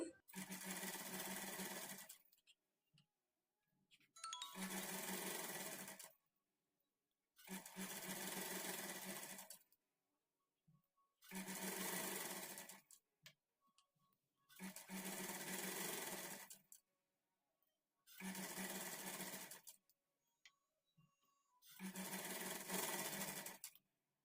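A sewing machine fitted with a single foot stitches thread piping in seven loud bursts of about two seconds each, separated by short quiet pauses.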